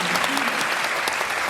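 Audience applause fills a film screening Q&A at the Busan International Film Festival's Sohyang Theater: a dense, steady wash of many hands clapping at close range, with no break across the short stretch.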